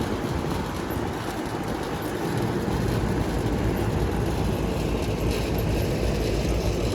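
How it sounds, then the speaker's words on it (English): A rattly air conditioning unit with a Copeland scroll compressor runs outdoors, a loud steady mechanical roar with a rough, buzzing rattle throughout and no pauses. "A little bit rattly unit, but seems like it's working okay."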